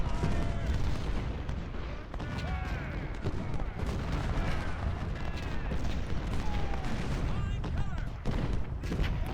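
Dense battlefield din in Ultimate General: Civil War, with artillery booms and crackling volleys of musket fire rolling continuously for several seconds, some shots near and others distant, with scattered shouting voices mixed in.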